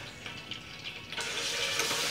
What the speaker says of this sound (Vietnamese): Chảo dầu của ta bắt đầu nóng rồi, ta bắt đầu bỏ thịt vào chiên.